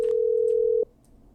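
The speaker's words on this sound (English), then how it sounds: "we're calling back one of our earlier callers" A steady telephone dial tone inside the video game Killer Frequency holds one unbroken pitch for nearly a second and then cuts off abruptly, leaving only quiet room noise.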